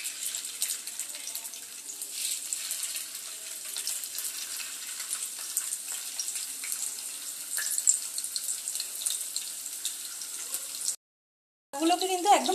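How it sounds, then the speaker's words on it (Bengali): Chicken tikka pieces frying in hot oil in a pan over a medium-high gas flame, giving a steady soft sizzle and crackle, moderately close, ending with a short gap and a brief clatter. "এবার টিক্কাগুলোকে দিয়ে দেবো একটা একটা করে"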